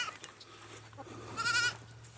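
New Zealand Kiko goats graze on pasture, with one clear nearby bleat rising over quiet outdoor background noise and fainter animal sounds.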